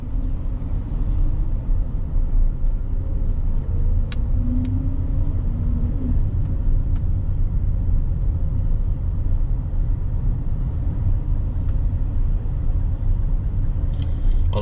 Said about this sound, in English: As you can see, there's plenty of traffic.